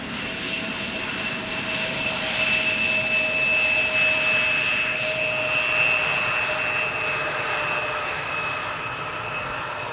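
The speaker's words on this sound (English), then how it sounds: "263 Embraer 170 arriving from Warsaw. Touching down after an hour and 55 minutes of flight." An 18-year-old Embraer 170 jet touches down at Amsterdam Schiphol after arriving from Warsaw, its engines giving a steady loud roar with a sustained high whine for the whole stretch.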